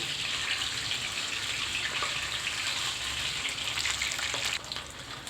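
Eggs sizzle in hot oil over medium heat, a steady close crackling hiss that runs unbroken and fairly loud throughout, with no voices.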